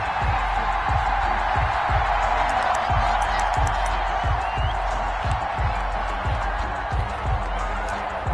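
Stadium crowd noise from an NFL video game matchup between the Atlanta Falcons and Dallas Cowboys, a steady loud roar of cheering fans filling the whole stretch with rhythmic low thumps beneath.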